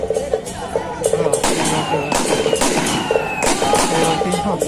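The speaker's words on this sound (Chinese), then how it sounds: "放炮大家好听啊" Firecrackers go off in scattered sharp pops and bursts at an outdoor temple festival martial-troupe gathering in Xigang, Taiwan, mixed with crowd voices and ringing tones.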